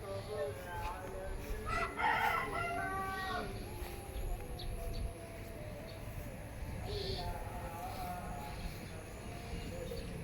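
A rooster crows once at moderate distance, a drawn-out call rising over faint outdoor background noise, followed by softer fowl sounds later on.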